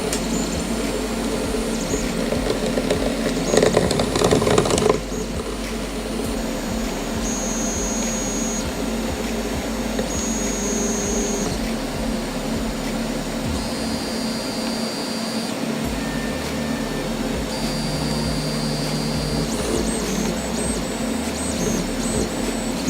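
A 3D printer fitted with an E3D Nano hotend runs continuously, with a steady close whirring hum and occasional higher stepper-motor tones over it, plus a louder burst at the start.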